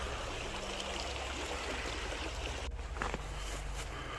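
Creek water flows steadily beside a forest clearing at a campsite, a constant broad rushing wash with a brief rustle or splash near the end, heard alone without voices.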